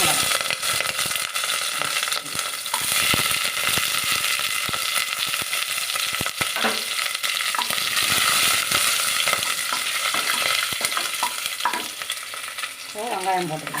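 Green chilies and onion, with cinnamon, cloves and star anise, sizzle in a pan for coconut rice, a steady frying hiss broken by repeated scraping and clinking stirs of a spoon against the metal.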